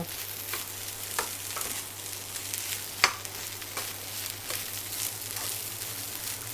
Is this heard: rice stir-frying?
yes